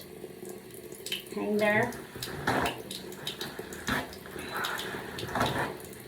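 Water runs from a sink faucet in a clinical handwashing setting, a steady hiss with a brief splashing surge, while a person talks over it.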